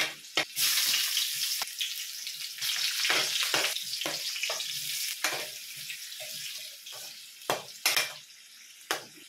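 Chicken frying in a pan for adobo, a loud continuous sizzle broken by repeated sharp clanks and scrapes of a utensil against the pan.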